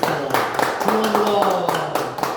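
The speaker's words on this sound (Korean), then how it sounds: "나오실 때 큰 박수로 환영하겠습니다." Applause greets a speaker coming up at a Korean lecture event, scattered claps ringing out in a loose rhythm while a voice carries on beneath them.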